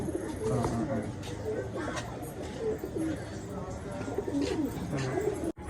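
Pigeons coo softly in a loft, their low repeated calls sounding close while someone talks over them throughout.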